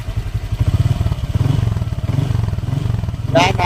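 A Honda Click scooter engine is revved at close range with its coolant system topped up: a loud, steady, pulsing idle rising into revs, with a brief clatter near the end.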